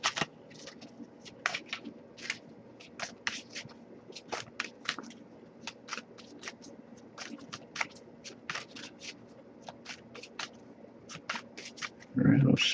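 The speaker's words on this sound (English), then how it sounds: "Alright, I'll shuffle a little more." Tarot cards are shuffled steadily by hand, with a brisk run of crisp riffling flicks repeating close up in a quiet room, ending in a brief rustle.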